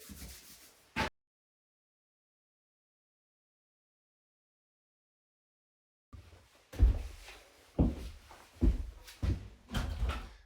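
Scraping rubbing strokes of hand sanding on pine tongue-and-groove boards, a short burst, then a long silence, then several rhythmic passes close by.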